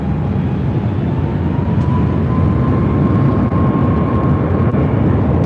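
A United airliner rolls for takeoff from runway 24 Left at LAX, a steady loud broadband jet roar with a faint whine holding throughout, no voices.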